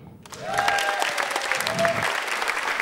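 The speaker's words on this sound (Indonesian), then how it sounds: "Tepuk tangan lu buat orang gemuk" An audience applauding at a stand-up comedy show, clapping that rises quickly into steady, dense applause from a crowd and carries on under a few faint whistles.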